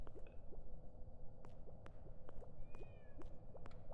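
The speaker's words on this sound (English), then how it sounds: "What was that humongous cat?" A cat meows in a horror video game, a couple of short rising and falling cries amid soft game ambience, sharp clicks and thumps, fairly quiet overall.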